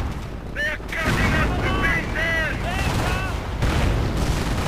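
Mortar and artillery fire in the Europe in Ruins wartime strategy game: heavy booming blasts mixed with rising and falling whistling tones that repeat across the stretch, loud and dense throughout.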